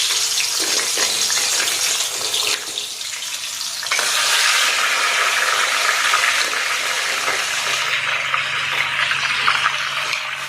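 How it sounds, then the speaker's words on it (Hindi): Crab fries in hot oil with bay leaf, cinnamon, black peppercorns, cloves and dried red chilli, giving a loud, continuous sizzle and hiss that stays steady throughout with occasional bubbling surges, no talking. "कंकड़ा पूरा बढ़िया फ्राए कर काढ़ीदे"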